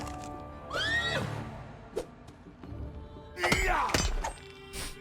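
Horse neighing in the fantasy role-playing video game Pathfinder: Wrath of the Righteous, two whinnies with falling pitch sweeps, the first early and the second louder near the end, amid game effects and thuds.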